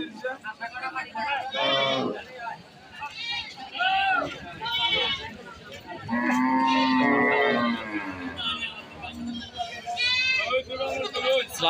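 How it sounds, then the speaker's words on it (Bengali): Cattle low at a large, busy village cattle market in Tangail, where goats are also being brought in; several drawn-out moos and bleats rise over constant crowd chatter and nearby voices. "বিশাল বড় গরু হাট দেখেন অনেক বড় হাট"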